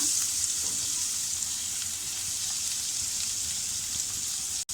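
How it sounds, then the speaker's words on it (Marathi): Dal and chopped coriander sauté on low heat in a pan, giving a steady, close crackling sizzle with faint stirring scrapes. The sound stays even throughout and no one speaks. "ही डाळसुद्धा आपण छान अशी परतून घेऊया"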